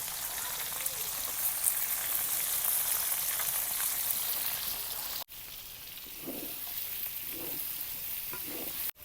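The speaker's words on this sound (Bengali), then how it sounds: "পেঁয়াজ রসুনটা ভাজা হয়ে গেছে" Chopped onion and garlic cloves frying in a pan for a village-style chicken curry, a loud continuous sizzle that cuts off briefly, then returns softer with a few stirring scrapes.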